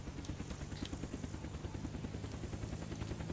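A helicopter in the zombie survival game Unturned carries players in flight, its rotor giving a steady, rhythmic thudding chop, loud and close, over a constant engine drone.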